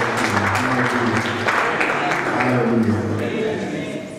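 Church congregation clapping together during a morning worship service, steady dense applause over organ or keyboard chords with a singing voice above it.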